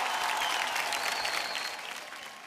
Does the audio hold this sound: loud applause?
yes